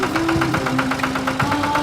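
A red cartoon tractor's engine chugs with a steady, fast knocking rhythm, close and loud, an idling motor pulse that repeats evenly for a couple of seconds.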